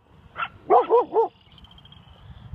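A coyote in Calgary gives a quick burst of barks, one short yip followed by three louder close barks in a row, then a faint high whine trailing off, with no speech.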